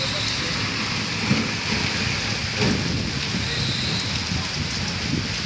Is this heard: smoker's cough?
no